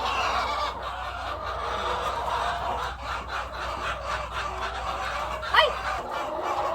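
Hens cluck and murmur in a cage-free chicken house, a steady flock chatter with a few louder calls rising over continuous low background noise.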